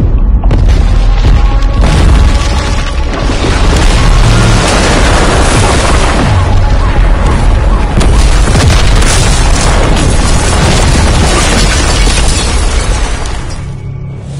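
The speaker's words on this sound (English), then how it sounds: "Got reports of multiple explosions in Verdansk." Heavy, continuous booming video game explosions in Verdansk roll together for the whole stretch, loud and close, with crackling debris and rumbling bursts layered on top, no voices.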